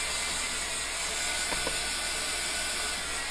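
A dryer blowing while chalk paste is set on a T-shirt, a steady loud broadband hiss with a low hum and no talk.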